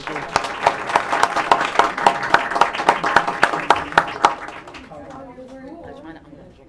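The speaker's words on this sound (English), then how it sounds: "Let's give them a round of applause." Audience members at a school board meeting applaud with distinct, fairly sparse claps close by, fading out after about four seconds into quieter room murmur and voices.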